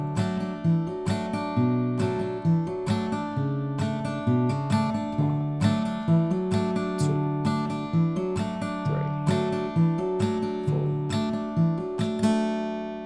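A guitar plays the verse of a song on its own, a steady, rhythmic chord-and-note pattern with plucked notes ringing clearly and repeating in even cycles.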